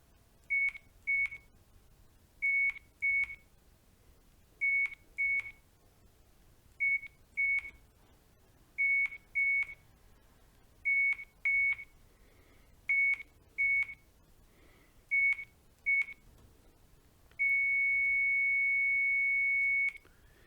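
Daikin SkyAir air conditioner self-diagnosis: repeated pairs of short electronic beeps at a steady rhythm, ending in one long sustained beep, clear and alone against a quiet background.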